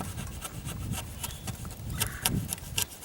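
Hand chisel paring and shaving wood for chicken coop parts, a run of close scraping, rubbing strokes with a few sharper knocks near the end, no talking.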